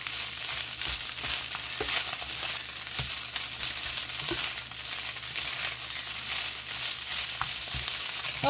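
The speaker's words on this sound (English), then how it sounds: "I'm going to fry this up for a few minutes until the butter melts" Steady sizzle of food frying in melting butter in a home kitchen, a continuous crackling hiss with occasional soft pops, moderately close and with no voices.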